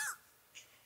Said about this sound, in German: Und ein paar Vögelein.